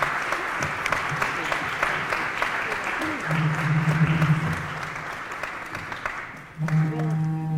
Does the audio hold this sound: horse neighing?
no